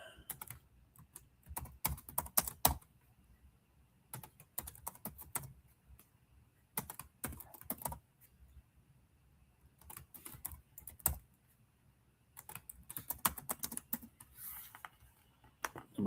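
Computer keyboard typing in quiet bursts of rapid clicking keystrokes, separated by short pauses, close and fairly soft with no talk.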